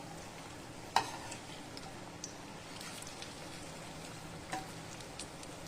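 A baklava flower frying in a pan on a low flame, a faint soft sizzle that holds steady throughout, with a couple of light clicks from handling.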